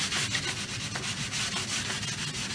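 Hand sanding the inside edge of a laminate sink cutout with 180 grit sandpaper: a steady, close scratchy rubbing that runs continuously with a slight back-and-forth rhythm, no voices.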